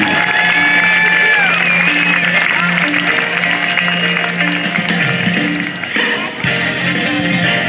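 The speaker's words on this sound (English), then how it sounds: "how about a big round of applause for Redline?" A large outdoor crowd at the 2022 Blue Angels Homecoming Air Show claps and cheers under a loud, steady background of aircraft engine hum and sustained tones.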